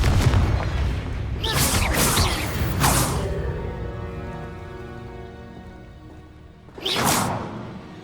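Confringo, the explosive spell in the video game Hogwarts Legacy, bursts with sharp whooshing blasts, several in quick succession early on and another near the end, each trailing into a low rumble and mechanical ringing.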